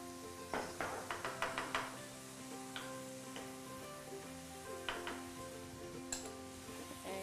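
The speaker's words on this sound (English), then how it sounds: "now we're gonna fry our carrots in that butter" Carrots frying in melted butter in a pan give a soft, steady sizzle, broken by a run of light stirring taps and clicks early on and a few more later; quiet and without talk.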